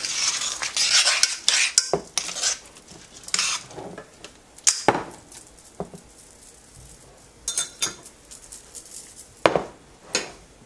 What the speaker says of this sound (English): Now I'm just going to mix it around a little bit more.